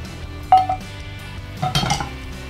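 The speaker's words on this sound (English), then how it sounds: "Now I'm going to add all the fried fish here." Fried catfish pieces tipped into a pot of boiling water in a home kitchen, giving a couple of brief clattering clinks and a splash against the pot over a steady low bubbling.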